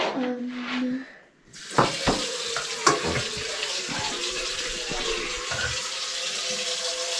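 Water runs steadily from a tap into a sink, a close hissing splash that starts after a brief pause and continues with a few clunks and knocks.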